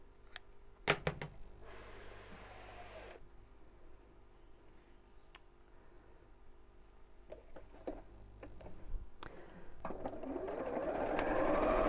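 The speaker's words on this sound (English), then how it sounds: "we're going to sew this right sides together, whoops," A sewing machine stitches fabric right sides together into a tube with a 1/4 inch seam, running in short bursts with clicks and handling noises between, quiet and close, growing steadier toward the end.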